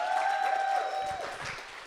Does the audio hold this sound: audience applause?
yes